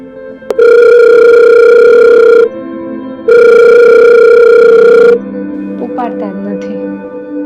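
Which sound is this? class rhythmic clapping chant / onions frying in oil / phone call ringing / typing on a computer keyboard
phone call ringing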